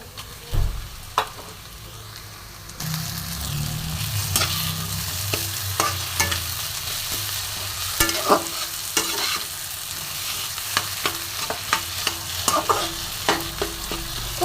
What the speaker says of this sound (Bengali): এবার আমি এর মধ্যে ম্যাশ করা আলুটা দিয়ে দেবো